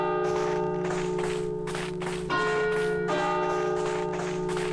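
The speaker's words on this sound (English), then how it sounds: "It's just here to make a ding-dong sound." A church bell in the Finnish village of Peräjärvi in the game My Winter Car rings with several loud, resonant ding-dong strikes. Each strike lets its long, humming tone hang and overlap the next.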